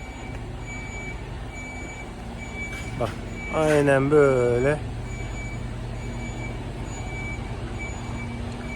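A semi-trailer truck backs up with a steady train of evenly spaced reversing beeps over a low engine hum, while someone speaks briefly in the middle.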